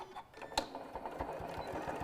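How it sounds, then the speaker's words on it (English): A sewing machine back stitches across the corners of a fabric pouch, running in a quick, even mechanical patter with a sharp knock partway through, close and steady. "going over that big hump, and back stitching."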